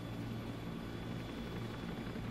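A Huey helicopter flies in formation in the ArmA 3 video game, its rotor and engine giving a steady, even drone throughout the brief stretch with no speech over it.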